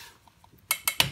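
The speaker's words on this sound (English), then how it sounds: "I give them a little tap." Three sharp metallic taps ring out on a stuck screw while a crank seal is repaired on a 1984 Yamaha G1 golf cart; they land in quick succession, close and crisp after a near-silent pause.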